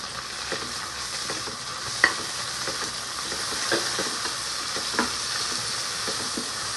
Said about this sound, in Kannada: ಪುದೀನದ ಹಸಿ ಸ್ಮೆಲ್ಲೆಲ್ಲ ಹೋಗೋವರೆಗೂ ನೀಟಾಗಿ ಚೆನ್ನಾಗಿ ಫ್ರೈ ಮಾಡ್ಕೊಳ್ಳಿ